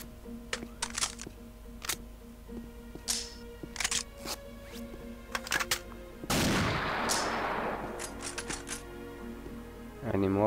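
Gunfire in the shooter game Unreal during an Infiltration co-op match: a scattered series of sharp, crisp shots at irregular intervals, then a louder sustained blast of noise that rings out for about two seconds.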